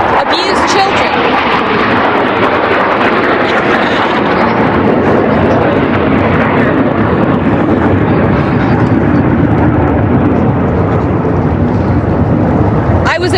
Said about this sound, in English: Wait for that plane to fly over.